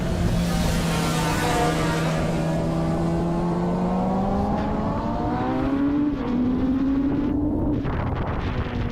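Vintage open-class race car heard on board accelerating onto the front straightaway, engine pitch climbing steadily through the gears over constant wind rush, loud and close.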